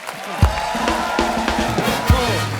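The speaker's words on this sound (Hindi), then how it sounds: "एक बार हेजल और युवराज के लिए जोरदार तालियां।" Studio audience at a TV comedy talk show clapping and cheering for two guests, lively applause with scattered whoops and shouts, a few sharp peaks standing out against a steady background of hands.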